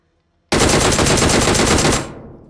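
Automatic gunfire in PUBG Mobile bursts in suddenly as a rapid, loud, continuous stream of shots lasting about a second and a half, then trails off in a fading echo.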